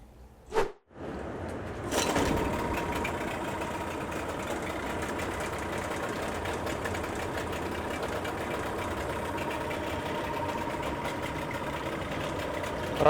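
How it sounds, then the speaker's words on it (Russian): A Yamaha 6B outboard motor, tuned up to 8 hp and fitted with a shortened leg, starts with a short burst and then idles with a steady, even drone, close and with no talk. "Работает мотор очень хорошо. Нет никаких посторонних шумов. Работает стабильно."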